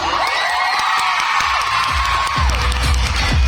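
A concert crowd at a live show in Manila cheers, screams and shouts continuously, with loud high-pitched voices rising and holding for several seconds before a few shorter shouts.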